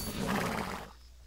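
A brief, faint horse whinny from a video game, a single rising neigh lasting about a second before cutting off.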